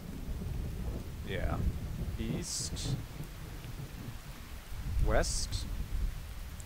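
Wind-driven rain and rumbling storm noise from the interactive fiction game Anchorhead, a steady wash of rain with low rumbles beneath intermittent talking.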